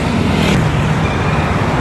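Cars drive southbound on an elevated Skyway expressway on a light-traffic Saturday, making a steady, loud roar of tyres and engines with a vehicle passing close by, and no voices.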